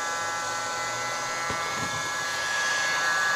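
Steady, loud motorized whir of a portable hot air blower from a solder rework station running at full speed, a continuous broadband rush with a brief click partway through.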